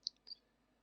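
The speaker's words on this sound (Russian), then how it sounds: "вставили с помощью комбинации Ctrl-V" Two quick keyboard clicks from a Ctrl-V key combination pressed on a computer keyboard, close and crisp, each a brief tap followed by quiet room tone.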